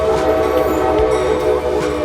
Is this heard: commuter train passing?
yes